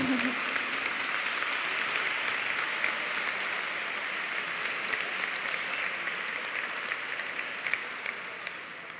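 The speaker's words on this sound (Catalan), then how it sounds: "Fort aplaudiment, han estat menys, però un fort aplaudiment" Sustained loud applause fills a graduation ceremony hall for new graduates, a dense, even wash of many hands clapping continuously for several seconds.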